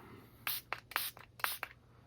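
Several short hissing bursts from an aerosol can of spray glue, close by and irregularly spaced, each a sharp airy spurt with quiet gaps between, applied to a model tree.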